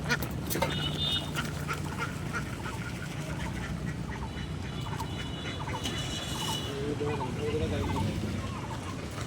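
A flock of farm ducks quack repeatedly and overlap in a busy, fairly close chorus. Voices of people talking can be heard underneath.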